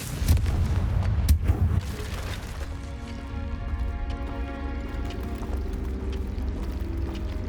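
Confringo blasting spell from Hogwarts Legacy: a loud explosive boom and crackle up front, then a rumbling, shimmering magical tail fading over several seconds, with no talking.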